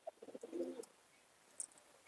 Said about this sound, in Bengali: এই হচ্ছে নর পায়রা।